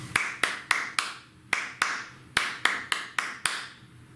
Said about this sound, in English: I'm going to clap it, I'm going to count and clap it